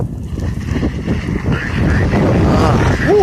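Strong wind blows outdoors during a snowstorm on a residential street, roaring steadily against the microphone in a loud, gusty rush. A voice is heard in the middle and near the end.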